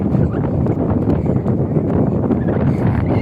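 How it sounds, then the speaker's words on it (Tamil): Strong wind buffets the microphone outdoors in a marshland, a continuous loud rumbling roar that holds steady throughout with no pauses. "ஏன்னா அவ்வளோ காத்து"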